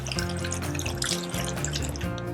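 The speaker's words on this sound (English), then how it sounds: "I'm going to go ahead and pour that water inside" Sixteen ounces of water is poured into a container for a dry ice comet demonstration, a continuous close bubbling pour that gurgles steadily without pause.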